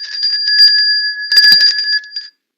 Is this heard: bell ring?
yes